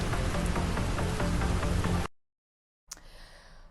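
Heavy rain pours during flooding in Jammu and Kashmir, a dense, loud, steady hiss of drops on surfaces that cuts out abruptly and returns fainter after a short silence.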